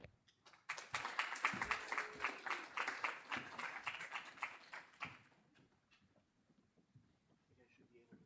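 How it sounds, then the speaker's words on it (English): Audience clapping for a panel of speakers at a microbe kickoff event, fairly close and sparse at first, swelling into brisk applause, then stopping abruptly and leaving quiet room noise with scattered small sounds. "please, a round of applause for all of our panelists"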